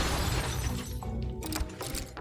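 Enemies crumble apart in the side-scroller game Forgottlings with a dense crunchy shattering and rattling burst, loud and close over busy game noise, trailing into a few scattered clatters.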